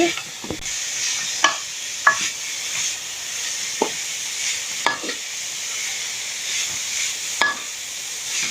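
Chicken fried rice is stirred and tossed in a sizzling pan, with a steady frying hiss and repeated sharp scrapes of the spatula every second or so, close and loud.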